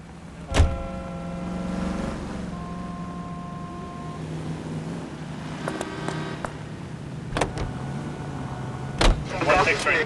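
A car drives in the video game L.A. Noire with a steady engine hum and road noise throughout, punctuated by a few sharp clicks and thumps, while people talk over it.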